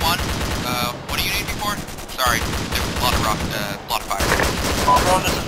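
ArmA 2 military battle at an airfield, with dense, continuous gunfire and explosive bursts crackling throughout, mixed with radio voices talking over the noise.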